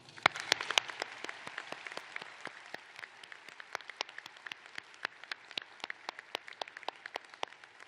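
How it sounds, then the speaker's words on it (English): Audience at a university public health pre-commencement ceremony clapping, a sparse, quiet patter of separate distinct claps rather than a full roar, steady across the stretch. "So please help thank them with a round of applause."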